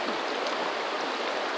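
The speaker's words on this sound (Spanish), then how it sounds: "Ya estaba crecido, pero ahí va la creciente todavía." A continuous, broad rushing of fast water, loud and steady, like a swollen river surging past nearby with no voices.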